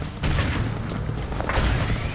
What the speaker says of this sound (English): detonate these barrels real quick